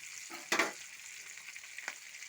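Green chillies dropped into hot oil, giving a sudden loud burst of sizzle that fades to a soft steady fry, with one more short crackle near the end.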